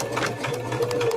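A sewing machine runs a steady close-up stitching burst while back-tacking a seam on a homemade rag bag, its motor humming continuously for about a second.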